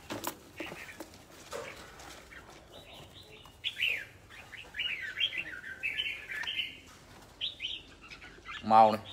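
Birds chirping and trilling in quick bursts, close and moderately loud, with rustling, handling noise and background sounds mixed in.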